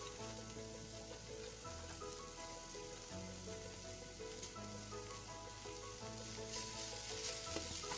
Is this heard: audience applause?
no